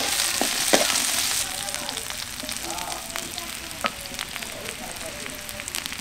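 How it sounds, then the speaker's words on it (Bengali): Garlic, onion and chili fry in hot oil with a continuous near sizzle, and a brief louder hiss at the start. Light ticks and scrapes of stirring come through at intervals. "রসুন পেঁয়াজের সাথে আমি মরিচটাও ভেজে নেব।"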